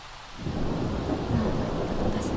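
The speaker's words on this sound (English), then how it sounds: "In The Sims, I don't particularly like thunderstorms." Thunderstorm in The Sims 3: after a brief quiet moment, a loud rumble of thunder rolls in over steady heavy rain, continuing without pause to the end with no voices.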